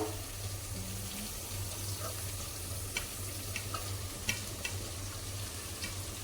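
Mixed cauliflower and cabbage frying in a pot, a low steady sizzle with faint scattered taps and scrapes of a spoon, fairly quiet and close, no speech.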